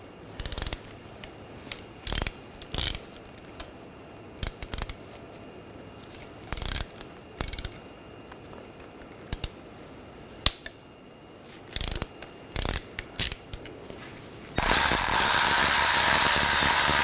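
Ratchet with an E10 socket loosening transfer case bolts on a 2009–2013 BMW 328i xDrive 3.0L L6, a series of short sharp clicking bursts separated by pauses, close and fairly loud, with a louder noisy rush at the end.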